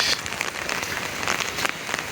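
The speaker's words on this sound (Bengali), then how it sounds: "অনেক টিপ টিপ বৃষ্টি হচ্ছে সারাদিন" Light rain patters steadily on a surface by the Ichamati River, a soft continuous hiss of scattered drops with no voices.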